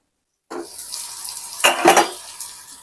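Tap water gushes into a sink to rinse leaves, starting abruptly and running steadily with a couple of louder splashes midway.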